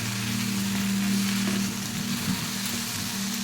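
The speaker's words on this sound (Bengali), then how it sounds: "শাকটা দেওয়ার পর পরিমাণ মতো নুন দেব এবং ঢেকে ঢেকে কিছুক্ষণ ভাজতে থাকব" Malabar spinach frying with salt and spices in a pan makes a steady, close sizzle that runs unbroken throughout, with no voices.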